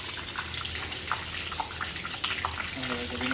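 Dirty water gushes from a pump on a secondary well at a beach house build in the Philippines, a steady splashing flow that builds slightly at the end, moderately close.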